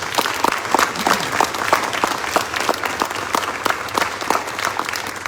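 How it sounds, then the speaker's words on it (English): An audience at a military family scholarship award ceremony at Fort Cavazos applauds steadily, many hands clapping at moderate distance for several seconds. "Please join me in giving them a round of applause."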